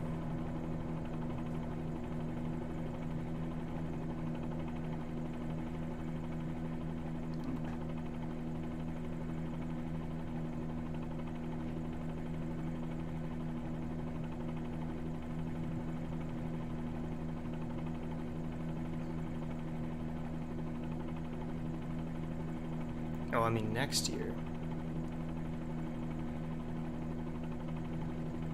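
A Bell 47 G2 helicopter's engine in Microsoft Flight Simulator hums in a steady, even low drone throughout, with a brief spoken remark near the end.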